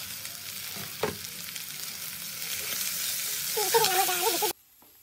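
Tomatoes and chillies fry in a hot pan with a steady crackling sizzle, a sharp clatter near the start and a brief wavering tone near the end before the sound cuts off abruptly.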